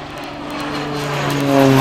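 Propeller airplane flying aerobatic circles around a runway, its engine drone growing steadily louder and nearer with a rising harmonic pitch.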